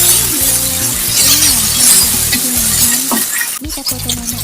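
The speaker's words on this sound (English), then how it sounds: "Add lemongrass, ginger, and galangal. Stir fry to finely thicken the spices." Lemongrass, ginger and galangal stir-fried in a pan, giving a steady loud sizzle with scraping and clinking of the utensil against the pan and no voices.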